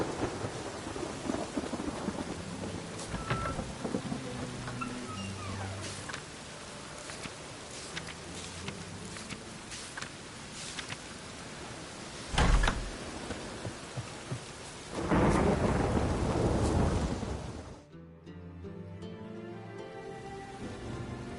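Steady rain hisses throughout a game scene, broken by a sharp thunder crack and a longer rolling rumble of thunder before the downpour abruptly cuts away, leaving a quieter ambience.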